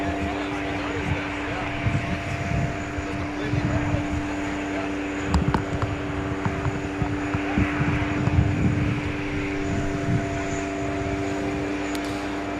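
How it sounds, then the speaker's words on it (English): Airbus A220 airliner pushing back at JFK airport for a flight to Chicago, a steady engine and fan drone with tonal hum, heard continuously at moderate distance while a person talks over it. "We have the A220 pushing."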